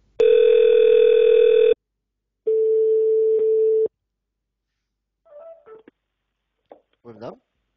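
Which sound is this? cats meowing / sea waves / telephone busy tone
telephone busy tone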